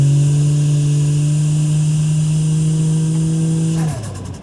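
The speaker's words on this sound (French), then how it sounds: "On va commencer à faire des petites accels, genre jusqu'à 4000 tours, regarde." Toyota Chaser engine fitted with a J-pipe exhaust, holding a loud, steady droning rev near 4000 rpm for about four seconds, then dropping off sharply as the throttle closes.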